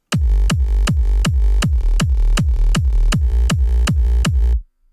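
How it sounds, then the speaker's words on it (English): Synthesized rolling bass from a hardstyle layering setup, pounding out around eleven evenly spaced, punchy notes with a heavy low body and rich harmonic buzz, loud and steady before cutting off. "And then there's a little rolling bass"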